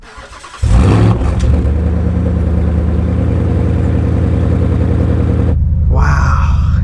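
A Shelby Super Snake V8 starts with a sudden loud roar and settles into a deep, throaty exhaust rumble close up, holding strong before a sharp drop and a brief blip of revs at the end.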